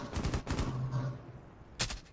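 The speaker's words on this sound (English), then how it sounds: "they're shooting us and they ain't even inside" Bursts of gunfire in the Rainbow Six video game, several rapid volleys in the first second, then a lull with a low hum, and another sharp shot near the end.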